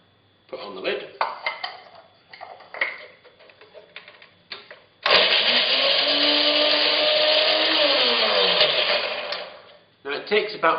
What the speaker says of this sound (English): Now it takes about 5 minutes of grinding to get it down to a fine powder